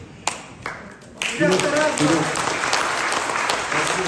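A theatre audience at a drama company's touring performance applauds its guests, scattered claps at first swelling into sustained, dense applause that fills the room, with a voice speaking over it.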